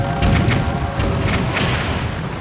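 Cannon fire from a boat in Zelda: The Wind Waker HD, a loud, dense run of booming blasts and rumble that continues through the clip, with no talking over it.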